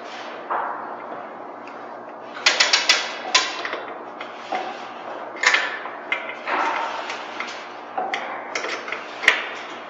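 The safety latch on an Ergo-Lift kiln clicks and clacks, giving sharp metallic taps and scraping knocks in uneven clusters, close and fairly loud, with no talking.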